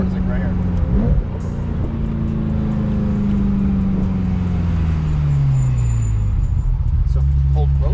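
A 25-year-old Ferrari engine revs at high RPM toward 9000, giving a loud, close, tonal wail whose pitch slowly sinks over several seconds, with a person talking over it.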